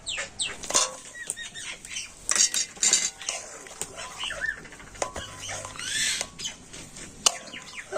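Metal spoon scraping and clinking against a wok while jaggery is stirred into milk, a busy run of close scrapes and taps with brief pauses.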